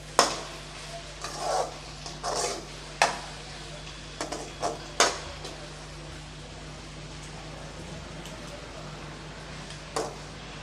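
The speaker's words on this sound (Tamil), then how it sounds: "நல்லா கலந்து விட்டுறலாம்." A spoon stirs macaroni pasta masala topped with coriander leaves in a pan, giving scattered close clinks and scrapes against the metal over a faint steady hiss, then a long lull before one last tap.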